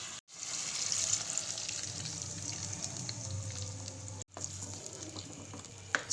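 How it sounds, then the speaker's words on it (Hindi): Water and leftover masala are added to a pan of marinated chicken that is already cooking, giving a steady, close sizzle and watery hiss with two brief gaps. No one speaks. "ये हम पानी और ये मसाला लगा हुआ ये भी हम अपनी चिकन में ऐड कर देते हैं"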